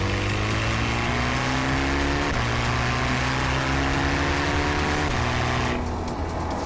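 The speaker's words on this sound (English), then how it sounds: "Don't forget that the Ferrari V8 Turbo is an award-winning engine as well." A Ferrari Portofino's turbocharged V8 revs loudly and close, its pitch climbing through several steady rising sweeps with brief drops between shifts, alone without talk.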